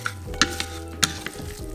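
Salad being tossed with salt and pepper gives a few soft scrapes and light clinks of a utensil against the bowl, irregular and close, over a low steady kitchen hum.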